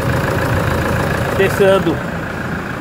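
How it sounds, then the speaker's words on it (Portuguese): Pickup truck engine idling steadily during a hydraulic power steering fluid change, the low hum continuing under a short spoken word. "Agora com o motor ligado."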